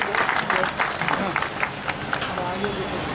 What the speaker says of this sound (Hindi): एक बार जोरदार तालियों से सभी सदस्यों का स्वागत करेंगे।